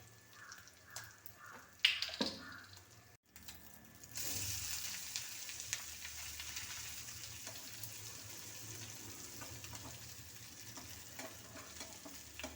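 Anchovies fry in oil in a pan, with a faint sizzle that grows louder after a brief clatter and pause, then settles into a steady hiss with occasional crackles.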